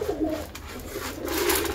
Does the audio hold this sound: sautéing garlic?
no